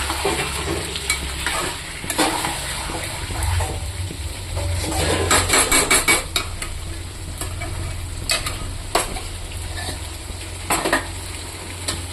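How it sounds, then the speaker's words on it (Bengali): Chicken frying covered in a pan for a chicken curry, a loud continuous sizzle with crackling bursts and occasional clinks of utensils against the pan, no talking. "এটা এরকম করে করে আমি ঢেকে ঢেকে ভেজে নেব।"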